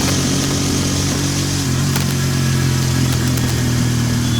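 Hero Extreme 160R 4V Pro motorcycle engine running steadily while riding on the street, a loud continuous mid-pitched drone with a slight rise in pitch partway through, heard up close and alone with no talking.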